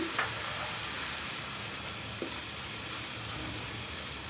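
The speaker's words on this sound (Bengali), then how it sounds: "এবার আমি এই পেঁয়াজ কষানোর মাঝেই দিয়ে দিব সরিষা বাটাটা। এটা সহ আমি খুব ভালো করে কষিয়ে নিচ্ছি।" Mustard paste being fried with onions in a pan, giving a steady, moderate sizzle with faint stirring sounds and no voices.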